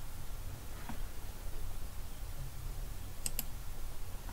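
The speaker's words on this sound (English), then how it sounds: "Can I click on this, please?" Mouse clicks in Zoo Tycoon, a few faint, sharp taps over a steady low background hum, quiet and close with no one talking.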